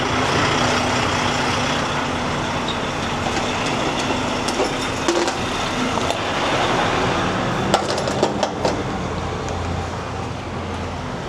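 A truck drives off with a rumbling engine and road noise, a steady loud drone with scattered clanks and rattles that stays fairly close throughout.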